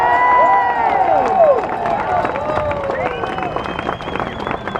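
A large crowd at a Donald Trump rally near Capitol Hill in Washington, DC, cheers, whistles and applauds loudly and steadily, with shouts rising throughout the roar.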